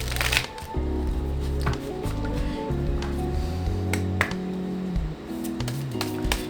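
Tarot cards are shuffled nearby in a steady run of soft riffling and papery slaps, continuous for several seconds with a few sharper taps, over a low background hum.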